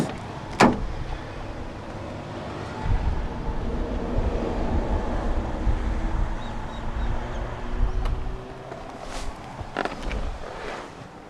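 Sharp mechanical clicks and clunks of a 2015 Citroën Grand C4 Picasso's door locks sound a few times against a low vehicle hum, with a faint whirring in between.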